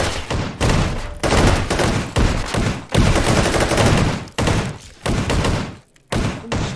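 Sci-fi guns firing in the VR shooter H3VR on an Among Us map: loud, close bursts of rapid automatic fire separated by brief pauses, with no talking.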